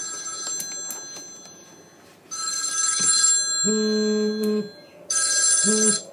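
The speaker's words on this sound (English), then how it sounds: "always the way when I film, my phone rings" A phone rings in repeated electronic bursts, fairly close and loud, with quieter handling noises between the rings.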